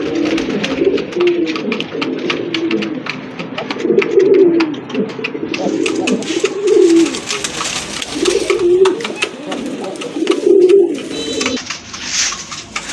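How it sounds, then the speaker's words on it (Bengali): A pair of red-check pigeons coo close by in a deep, rhythmic series of throaty calls repeating roughly every two seconds, loud and clear against faint background noise. "সুন্দর এক জোড়া কবুতর"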